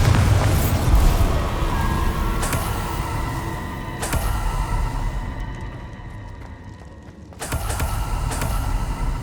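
Bombarda blasting spell going off in the wizarding video game Hogwarts Legacy: dense, loud boom-and-rumble game effects with sharp percussive bursts near the start, around four seconds, and a heavy new blast near seven seconds after a quieter lull.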